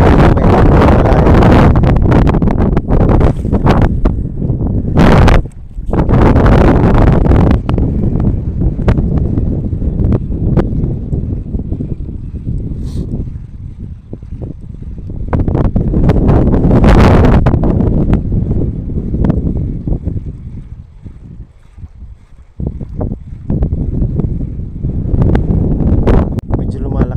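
Strong amihan monsoon wind at sea during a fishing trip, roaring and buffeting loudly against the microphone almost throughout, with gusts rising and easing, and brief muffled sounds that may be voices.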